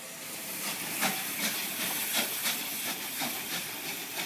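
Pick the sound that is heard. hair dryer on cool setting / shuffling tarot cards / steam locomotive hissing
steam locomotive hissing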